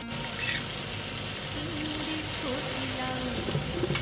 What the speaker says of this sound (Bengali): তখন আমি জল দিয়ে দিচ্ছি